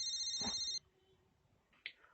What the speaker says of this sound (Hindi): उन्हीं का फोन है।